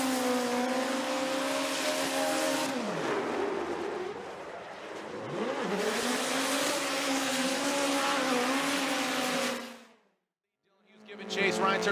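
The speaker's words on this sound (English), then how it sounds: "Lay back and listen to this 4-cylinder turbocharged nitrous hatchback." A Toyota Corolla hatchback Formula Drift car with a 4-cylinder turbocharged nitrous engine screams through a run at high revs, pitch dropping and rising on shifts, then falls silent briefly before another burst, with crowd-like noise underneath.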